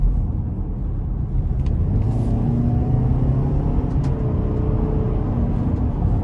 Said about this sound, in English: I'm gonna put it into sport now, and let's see how this thing gets up to speed